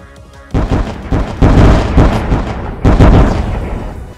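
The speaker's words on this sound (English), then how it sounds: "take the bow with a fire arrow and simply light one of the TNT blocks on fire" TNT blocks in the Block Story video game set off by a fire arrow blow up in a rapid chain of loud, booming explosions, several overlapping blasts rumbling over about four seconds.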